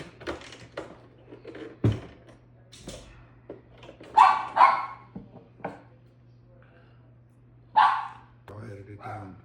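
A dog barks in several short bursts in a kitchen, loud and close, over a steady low hum, with people talking in between.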